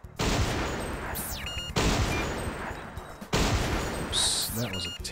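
Gunshots in the sniper arcade game Silent Scope, three loud sharp blasts spaced evenly over the clip, each followed by a decaying rumble with small whistling game effects between them.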